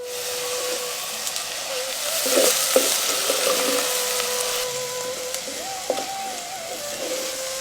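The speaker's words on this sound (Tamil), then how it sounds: "4 தேக்கரண்டி எண்ணெயில கொஞ்சம் சோம்பு, கறிவேப்பிலை, 2 பச்சை மிளகாய், 200 கிராம் நறுக்கின பெரிய வெங்காயத்தை சேர்த்து நல்லா வதக்க ஆரம்பிச்சிருவோம்" Onions sizzle steadily in four spoons of hot oil with fennel seeds, curry leaves and green chillies, a continuous close frying hiss with occasional stirring clicks and no talking.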